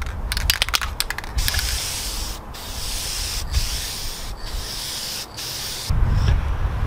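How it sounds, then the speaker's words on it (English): Dupli-Color adhesion promoter primer sprayed from an aerosol can onto a plastic door panel outdoors, heard as steady close hissing bursts with brief pauses between passes and some low background rumble. "I opted to use this Dupli-Color adhesion promoter. It's a primer for paint, for plastic, vinyl, and chrome"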